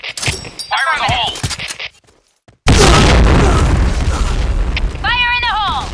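A grenade goes off in a sandstorm-map first-person shooter game: a sudden loud boom after a brief silence, with a long rumbling tail, while voiced radio callouts and shouts are heard before and after.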